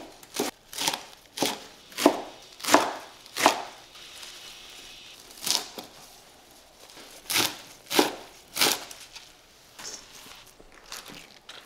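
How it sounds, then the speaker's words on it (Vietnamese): A knife chops fresh herbs on a cutting board in sharp, close, evenly spaced strokes: a steady run of about seven, a pause, then scattered pairs of chops, with no talking. "Mình xắt nhỏ tất cả các loại rau thơm,"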